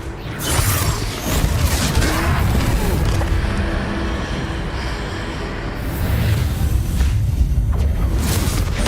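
Spell blasts and magical whooshes from Hogwarts Legacy, the video game, rumble and boom through dense, continuous battle noise with low-end surges, loud and close throughout. A troll fight is under way.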